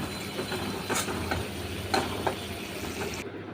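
A spoon stirs egg masala for egg do pyaza in a pan on the stove, giving repeated scraping strokes over a soft sizzle, close and moderately loud.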